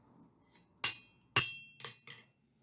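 A hammer strikes the end of a piece three or four times in sequence, flattening it into a two-sided wedge shape, each blow a sharp, ringing metallic hit with short gaps between.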